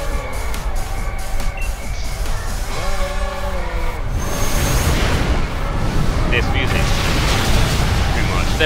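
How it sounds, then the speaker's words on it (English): Gigantamax move explosion in Pokemon Sword: after musical tones, a loud, sustained roaring burst of noise that fills the rest of the clip. "Whoa, look at that explosion."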